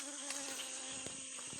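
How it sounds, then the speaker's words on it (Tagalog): A bee buzzing persistently nearby outdoors while taro stalks and leaves are being gathered, a steady insect drone with soft rustling and a few faint knocks, no talking. "May nangungulit na bubuyog."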